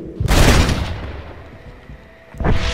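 Pistol shots in the western game Red Dead Redemption during a riverboat rescue: one loud booming shot with a long ringing decay, then another shot near the end.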